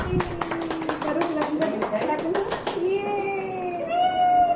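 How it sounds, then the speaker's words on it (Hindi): Group applause from parents and kids at a family gathering about twins, a dense patter of clapping over chatter and children's voices, then trailing into talk and a brief whistle-like tone. "एक बार सबके लिए तालियां हो जाए।"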